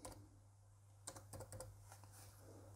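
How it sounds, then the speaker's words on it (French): Keys tapped on a computer keyboard while an extension name is entered in a WordPress plugin search, heard as a short, quiet burst of clicks over a low steady hum. "on va taper Smash Balloon"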